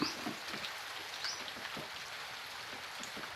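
Rain falls in a dense, steady patter of small drops on a surface, fairly quiet and close, with no voices over it.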